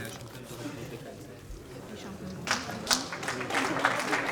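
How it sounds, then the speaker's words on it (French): An audience at a kickboxing weigh-in applauds the two fighters, scattered clapping rising in the second half over a murmuring crowd and a voice speaking. "On applaudit les deux hommes."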